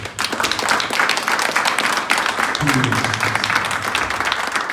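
A congregation at an anniversary Eucharistic celebration applauds steadily, a thick, sustained wash of many hands clapping close by, with a brief voice rising under it midway.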